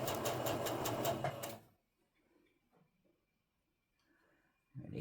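A sewing machine stitches small quilt pieces for a nine-patch quilt, running in a fast rhythmic burst for under two seconds before stopping, followed by faint handling noises and a soft thump at the end.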